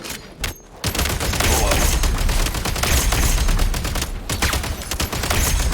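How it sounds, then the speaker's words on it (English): Grenade blast and rapid gunfire in a Genshin Impact battle, with a dense barrage of loud shots and thuds running continuously after a brief quieter opening. "Frag out!"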